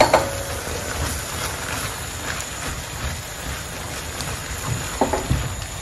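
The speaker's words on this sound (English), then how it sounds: "Our minced meat is cooking" Minced meat and chopped onions cooking in a pan for a meat pie filling, a steady close sizzle and crackle with a few louder scraping stirs near the end.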